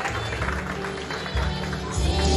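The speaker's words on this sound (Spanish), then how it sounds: "fuerte el aplauso por favor, fuerte que se escuche para mamá" Steady crowd applause at a quinceañera celebration after the crowning moment, a dense broadband clatter of many hands lasting a couple of seconds, with low party music or hum running underneath.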